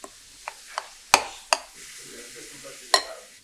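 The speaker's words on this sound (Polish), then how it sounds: "Wlej roztopione masło do miski i dobrze wymieszaj." A utensil scrapes and taps against a bowl while stirring melted butter, several sharp clinks spaced irregularly over a soft swishing of liquid.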